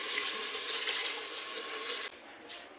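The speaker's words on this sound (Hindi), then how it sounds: "अब हम इसमें पानी ऐड करेंगे।" Water pours into a hot pan of roasting black chickpeas, giving a loud hissing sizzle that cuts off abruptly and leaves a quieter simmer.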